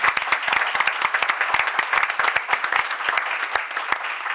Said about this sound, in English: If we can offer them a round of applause.